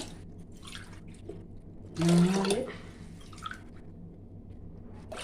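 Water poured from a steel tumbler into a cooking pot while making dal payasam, a short splashing pour lasting under a second in the middle, with a voice briefly counting nearby.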